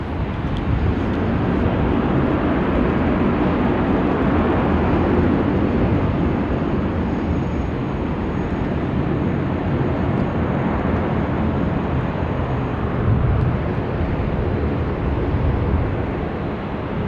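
MASkargo cargo plane taking off from Sydney Airport runway 16 right, a sustained loud roaring jet rumble that holds steady throughout, heard from the ground without talk.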